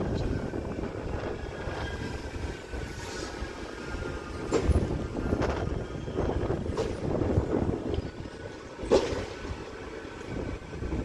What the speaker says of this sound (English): as that tram terminates in and as that train arrives in